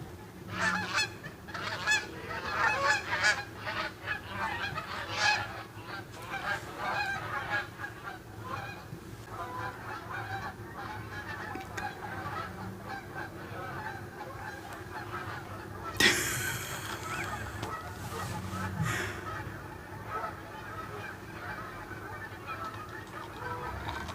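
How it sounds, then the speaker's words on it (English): A large flock of geese honks continuously, loud and overlapping, with a sharp burst of noise partway through. "They're so loud. It was a bunch of geese."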